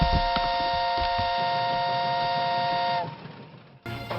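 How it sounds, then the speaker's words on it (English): In a steampunk fantasy audio drama, an airship's landing whistle sounds a loud, steady, sustained tone for about three seconds. It cuts off, then a brief fainter blast follows. "as Sprocket has just sounded the landing whistle and I am needed on deck"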